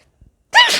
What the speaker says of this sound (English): excuse me, I had the sneezes.